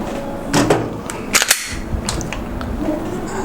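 A pistol's slide is racked to chamber a round while a holster is being shown, giving a few sharp metallic clacks close by, with the main snap near the middle and no talk over it.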